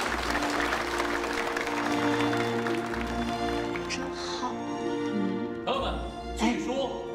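Wedding guests applauding and cheering, a sustained crowd of clapping with scattered shouts, fairly close and lively, with voices talking through it.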